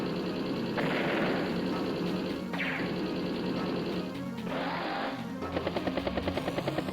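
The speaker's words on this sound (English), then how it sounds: "Even put some machine gun rounds on the tank and the battlecopter." Machine gun fire hits a tank in the strategy game Advance Wars: Days of Ruin: loud bursts of gunfire and crashing impacts, then a quick rhythmic rattle of rounds at the end.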